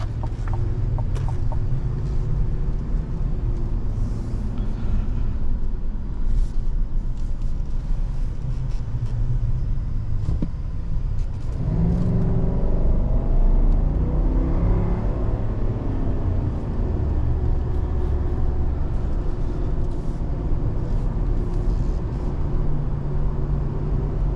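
A 2022 Chevrolet Silverado 1500 ZR2 with a 6.2 V8 driving, a steady low engine rumble inside the cab that swells around midway as it pulls harder.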